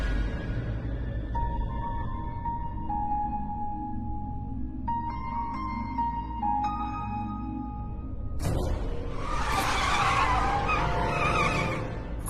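A car driven fast, with engine tones rising and falling, then a burst of loud, broadband tire skidding in the final seconds.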